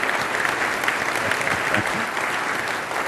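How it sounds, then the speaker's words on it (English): A keynote audience at Autodesk University gives a quick round of applause for a production crew, a dense, continuous clatter of many hands clapping at fairly close range. "quick round of applause for the Krusty crew."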